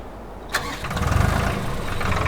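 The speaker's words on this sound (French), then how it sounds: "On va chercher le petit tracteur." Small farm tractor engine cranking and catching after a quiet moment, then settling into a close, loud, rhythmic low idle that chugs steadily on, with no talk.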